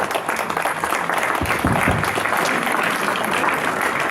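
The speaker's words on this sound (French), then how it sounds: "Vous pouvez tous vous applaudir entre vous." Crowd applause at the prize ceremony of the 2017 Viverols hill climb, a steady wash of clapping from many people, fairly loud and continuous, with a few low bumps in the middle.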